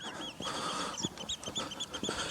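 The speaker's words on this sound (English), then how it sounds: "So I've got loads of oyster catchers, curlews, and loads of other type of birds." Oystercatchers, curlews and other birds calling outdoors at dawn, overlapping piping and trilling calls repeating in quick bursts, moderately distant with a steady background hush.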